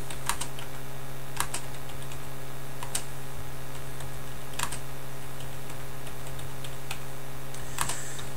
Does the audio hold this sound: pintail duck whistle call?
no